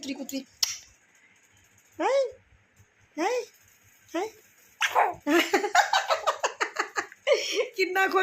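Dogs bark in short, close bursts that grow into a rapid run of barks near the end, with voices talking and laughing in between.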